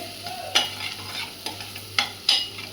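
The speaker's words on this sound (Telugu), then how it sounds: "పేస్ట్ని అడుగంటకుండా తిప్పుతూ ఉండాలండి" A spoon stirs dondakai masala paste as it fries in a pan, with soft scraping strokes at irregular intervals over a low, steady sizzle, close up and without talk.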